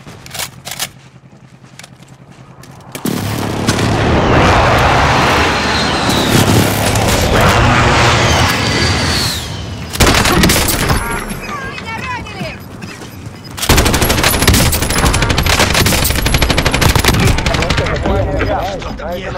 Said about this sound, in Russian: Авиаудар противника в укрытие.